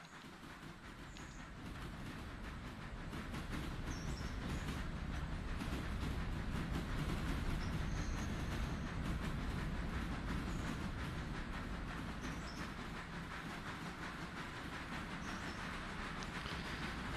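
A train rolls steadily along its rails in a video game, a continuous low rumble with a faint clatter that swells slightly in the middle and holds close and loud throughout, with no talking.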